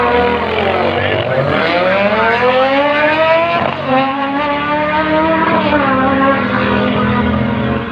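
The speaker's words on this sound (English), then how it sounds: "on this big upright Harley Davidson, where Jeff's going to be leaning right down over the tank behind that bikini fairing" Drag racing motorcycles, including a big upright Harley-Davidson, launch on a sunset strip at Riverland Nationals in Mildura. Loud, steady engines climb in pitch through repeated gear changes over several seconds, and no one speaks over them.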